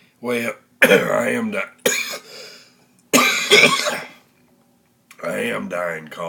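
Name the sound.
coughing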